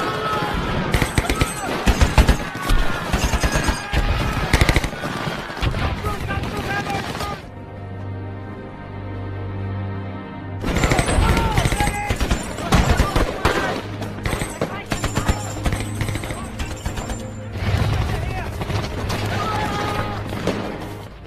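Film battle between Australian and Japanese soldiers in the Papuan jungle: loud bursts of rifle and machine-gun fire crackle in dense volleys, break for a few seconds of tonal music, then resume in rapid, close fusillades.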